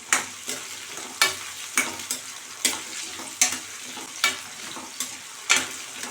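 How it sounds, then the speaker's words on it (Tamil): Curry leaves and drumstick pieces sautéing in a pan for vatha kuzhambu give a steady sizzle under regular spoon scrapes and stirring knocks, about one every half second, close and clear. "இதெல்லாம் நல்லா வதங்கட்டும்."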